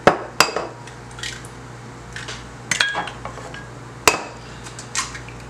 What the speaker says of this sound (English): I have 3 eggs here that I will break.